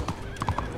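Horses trotting in Red Dead Online give a quick burst of hoof clip-clops lasting under a second, with a short whinny-like tone over a steady game background.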